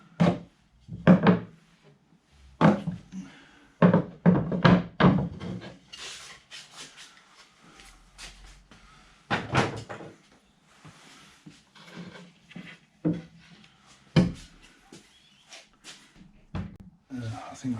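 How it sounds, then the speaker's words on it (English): Clamps are knocked off a glued wooden blanket box in a workshop, with sharp wooden knocks and clunks coming in irregular bursts, some rubbing and scraping between them, and a person talking at times. "time to knock all the clamps out"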